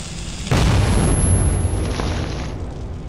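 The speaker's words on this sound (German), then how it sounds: "Dann schmeißen wir doch mal hier eine Granate hin." A grenade goes off in Metro 2033, a sudden loud boom after a short quiet lead-in, followed by a rumbling roar that slowly fades.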